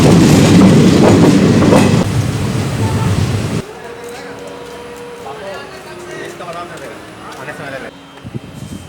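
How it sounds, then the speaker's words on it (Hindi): Goods train hauling iron ore through the Saranda jungle near Dumerta station in India, a loud rumbling clatter of rolling wagons up close that drops suddenly to a quieter, more distant rolling rattle, with a voice talking over it. "वहाँ से कच्चा लोहा लाने का कार्य इस गुड्स ट्रेन के माध्यम से की जाती है, जिसे कि आप देख रहे हैं।"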